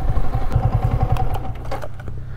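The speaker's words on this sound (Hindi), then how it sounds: "इधर ही अपना बाइक पहले रोकते हैं" A motorbike being brought to a halt on a long ride to Kakolat Waterfall in Nawada, its engine idling with a rough, pulsing low rumble, close and loud, plus some clattering and light rattles toward the end.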